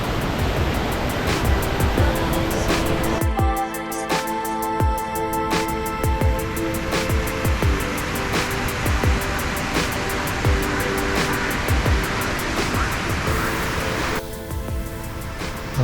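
Skradinski Buk, the main waterfall in Krka National Park, heard as a constant roaring rush of falling water from a distance, with scattered clicks and footsteps along a walking trail.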